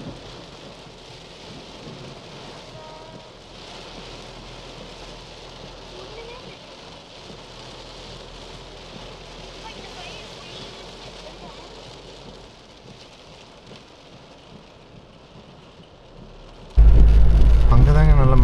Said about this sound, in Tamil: அங்கே தாங்க நல்ல மழை, இங்கே கொஞ்சம் கம்மியாக இருக்குங்க.